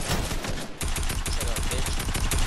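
Rapid gunfire from a 1v1 video game match, dense bursts of shots crackling throughout with a brief lull near the start, loud and close under heavy game noise.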